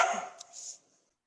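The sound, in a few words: dogs barking in the background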